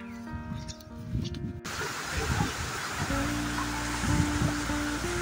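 Mountain water flows down into a deep valley, a broad steady roar like a waterfall heard from fairly close. A brief noisy patch at the start gives way to the continuous rush.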